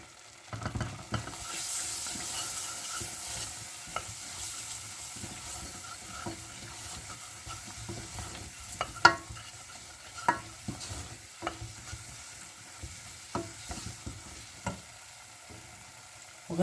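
Flour is stirred in a hot pan with a soft, continuous sizzle, the spoon scraping and tapping the pan at irregular intervals, with a few sharper knocks later on.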